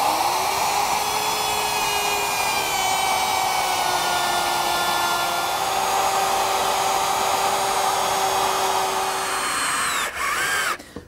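Router fitted with a bearing-guided pattern bit cuts along a plywood template edge: a loud, steady high-pitched whine holding for about ten seconds, then spinning down and cutting off, with no talk.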